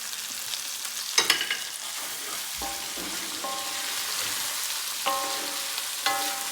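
Beef liver fry with curry leaves, pepper and raw coconut oil being stirred in a pan, with a soft, quiet sizzle and a few sharp spatula scrapes and clicks.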